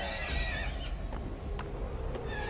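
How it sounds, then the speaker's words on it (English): A horse neighs in the video game Metal Gear Solid V: The Phantom Pain, a few shrill whinnies over a dense, steady background of game sound, with no talking. "What's with the horse? Is he hallucinating the horse?"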